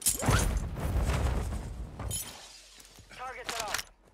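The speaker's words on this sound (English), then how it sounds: "Was that you breaking glass?" Glass shattering in the video game Call of Duty: Modern Warfare II, a sharp breaking crash near the start with a brief second smash later, heard over the game's ambient sounds while a voice talks.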